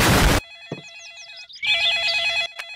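An electronic telephone ring trills in a repeating warbling pattern, cutting in after a loud burst of noise, pausing briefly with a few synthetic chirps, then resuming as a steady ring, with no talking.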